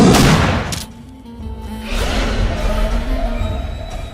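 A cartoon gunshot is fired at a tiger in an animated horror story set in the Sundarbans. A loud blast opens the moment, followed by a booming echo and a rumbling tail that fades.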